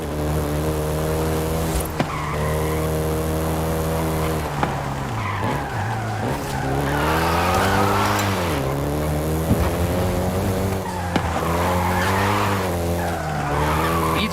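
A Volkswagen Golf GTI in the racing game Forza Horizon 5 revs hard and skids, its loud engine note rising and falling through gear changes while tires screech through repeated slides, with no talk.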